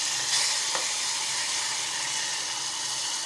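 Boiled tomato pieces with salt, turmeric and chili powder sizzle steadily in a pan, giving a continuous close frying hiss with faint stirring.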